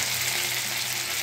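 Bata fish sizzling in hot oil in a pan, a dense, even crackle that runs without pause, close and loud with no talk.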